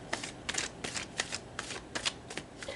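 Tarot cards shuffled by hand in a steady series of crisp, riffling bursts, close and fairly quiet, with no voice over them.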